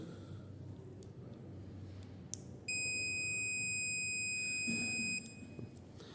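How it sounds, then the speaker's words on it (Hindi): A multimeter beeps once in a continuity test on a wire with no break, giving a steady, clear electronic tone that lasts about two and a half seconds after a faint click, over low room hum. "ये बीप साउंड बताती है कि वायर बिल्कुल ठीक है, अंदर से कनेक्टेड है।"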